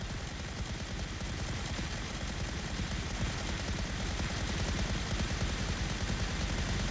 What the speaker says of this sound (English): If you hear in the distance, it'll be a resounding amount of gunfire.